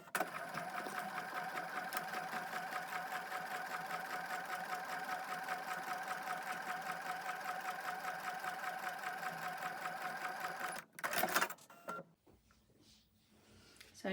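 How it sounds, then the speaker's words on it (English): A sewing machine stitches quilt fabric for foundation paper piecing in one long, steady mechanical whirr of rapid stitches, then stops abruptly, followed by a few short handling clatters and near silence. "take that over to the sewing machine."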